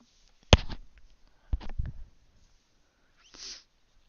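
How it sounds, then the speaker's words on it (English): Several short, breathy nasal sniffs, close and fairly quiet, spaced out with brief pauses and a softer sniff near the end. "Now I've got the sniffles."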